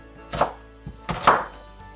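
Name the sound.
chopping onions and tomatoes into dice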